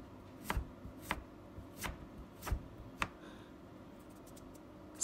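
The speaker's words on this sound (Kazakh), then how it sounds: "оны осылай жалпақ етіп турап, сосын ұзынша етіп турап аламыз." A knife cuts carrots into long strips on a cutting board, five distinct, evenly spaced chops followed by quieter tapping and handling, close but soft, with no talking.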